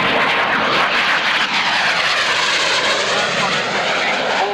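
A Harrier jet from the Harrier OCU at Wittering roars past at an air show, a loud sustained broadband engine rush filling the whole clip with no break, while a commentator talks over it.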